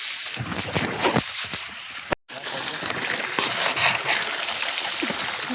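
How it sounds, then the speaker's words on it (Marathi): Steady rushing irrigation water runs throughout on a farm field, a broad splashing wash with a brief dropout near the middle, close and fairly loud. "पाणी आम्ही आता चालू केलंय"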